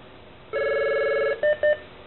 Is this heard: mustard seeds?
no